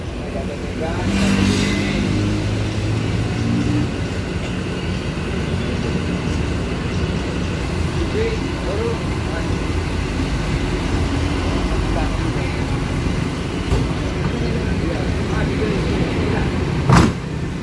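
A large bus engine rumbles steadily and gradually pulls away from a crowded bus stop amid busy station noise, with a sharp clack near the end.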